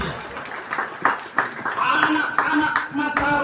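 Audience applause for an event committee, scattered claps and some laughter mixed with ongoing talk and a ringing tone, moderately loud and close throughout.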